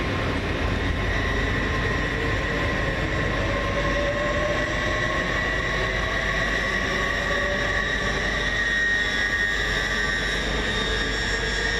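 Great Western Railway class 800 train 800 007 pulling out of Reading station on a Paddington to Oxford service, a steady, loud rising traction whine and rumble that holds throughout with no speech.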